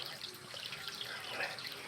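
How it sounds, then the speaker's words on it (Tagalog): Natural spring water from Mount Makiling in Laguna, Philippines runs steadily, a close, soft continuous splashing and trickle with a faint voice underneath. "Running water."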